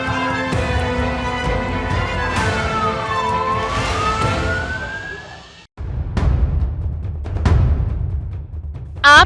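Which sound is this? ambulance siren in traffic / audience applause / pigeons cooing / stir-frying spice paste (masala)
ambulance siren in traffic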